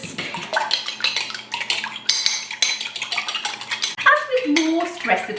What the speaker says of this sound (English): Give it a whisk.